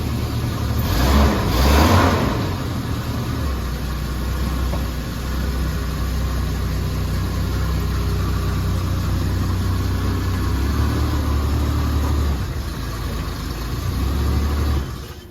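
Old 3-litre six-cylinder car engine running close by, opening with a blip of revs, then settling into a steady, rumbling idle before another brief rise in revs near the end.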